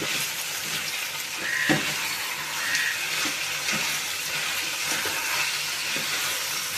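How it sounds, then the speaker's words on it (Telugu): Stirring a tomato and carrot curry in a pan over village-style cooking, with soft sizzling and steamy frying beneath a few light scraping stirs of the spoon, moderately close, no talking. "ఒకసారి తిప్పుకుందాం."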